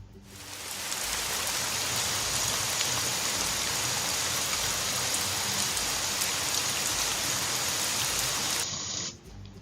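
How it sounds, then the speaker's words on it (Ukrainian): Steady, heavy rain pours down without a break, a dense hiss of drops striking surfaces that fades out abruptly at the end. "Правильно, це Дощ."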